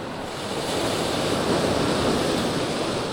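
Large ocean waves surge in a continuous, loud roaring wash with a steady hiss of wind over it, heard at sea with no voices.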